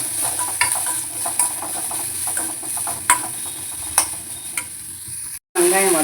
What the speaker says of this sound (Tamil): வானலில் கொஞ்சம் எண்ணெய் ஊற்றிட்டு வெட்டி வச்ச வெங்காயம், பச்சை மிளகாய் எல்லாம்